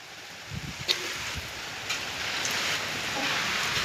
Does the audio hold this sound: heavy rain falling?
yes